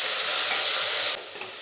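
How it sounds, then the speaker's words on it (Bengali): Chopped capsicum, slit green chillies and chopped tomato fry with ginger-garlic paste for a mutton kosha, giving a loud, steady close-up sizzle that drops slightly in level near the end, with no talking. "ভালো করে ভেজে নেব।"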